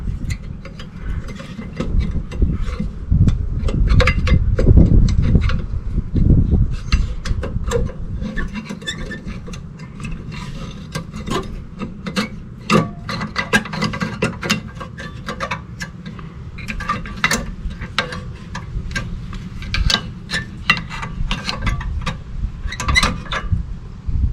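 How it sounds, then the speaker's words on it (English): Rear brake pads come off a 2005 Toyota Highlander, giving close metallic scraping, clicks and rubbing in irregular bursts, with a denser clatter early on, and no talking. "Removing the pads."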